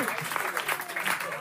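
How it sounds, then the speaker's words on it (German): Studio audience applause on a German late-night talk show, a dense, steady wash of clapping filling the whole stretch with no break. "Das ist ein Applaus!"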